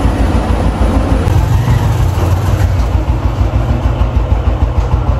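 An old motorcycle belonging to a grandfather idles nearby with a steady low rumble that keeps a constant level from start to finish, and no voices are heard over it.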